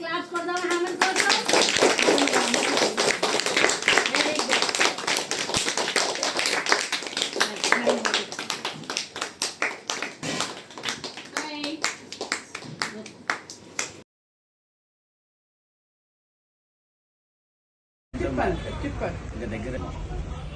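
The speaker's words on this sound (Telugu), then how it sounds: "సో అందరూ గట్టిగా క్లాప్స్ కొడదాం హేమంత్ కోసం." An audience claps loudly for Hemanth, a special child, at a Prajwal Vani Trust event: dense, sustained applause from many hands for about fourteen seconds, thinning into scattered claps before silence, then talking resumes.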